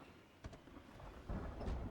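Rain and thunder in the zombie survival game Project Zomboid, a low rumble building into a louder, sustained roll of thunder over steady rain hiss, no voices.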